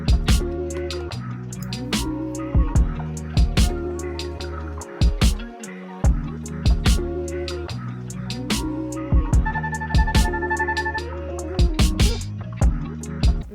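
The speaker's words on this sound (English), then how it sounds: "Now there is a new ringtone feature where you can create your own sound." A bright electronic ringtone from a Nothing Phone (2) plays a looping melodic pattern with punchy beats and synth tones, loud and clear.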